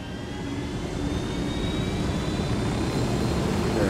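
A helicopter in the video game Ghost Recon Wildlands flies with a steady, close rotor and engine roar that holds even and loud throughout, with no talking.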